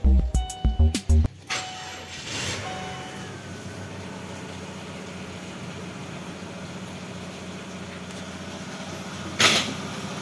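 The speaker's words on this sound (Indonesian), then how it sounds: "Biarkan mesin menyala pada posisi idle." A car engine idles steadily during a radiator flush, a low constant hum running under a few sharp clanks and knocks at the start and a brief thump near the end.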